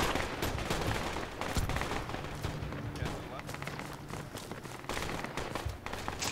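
Continuous gunfire in a video game firefight keeps up a dense, loud barrage of overlapping shots, with a player talking over it.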